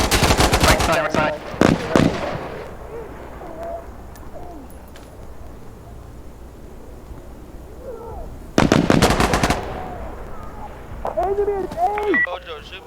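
Bursts of automatic gunfire from the video game Insurgency Sandstorm come as two loud, dense volleys near the start and again later. Quieter in-game ambience, including bird-like calls, fills the gaps between them.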